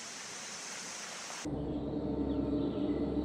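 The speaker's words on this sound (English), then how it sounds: "It crosses the Munyaga River 3 times before presenting you with the first waterfall." A waterfall on the Munyaga River trail deep in a forest gives a steady broadband rush of falling water; partway through the sound changes to a deeper, fuller roar.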